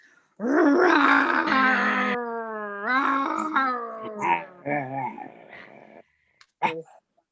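Voices imitate roaring lions in a string of long, drawn-out growling roars of varying pitch, loud and close, fading to short bursts and silence at the end.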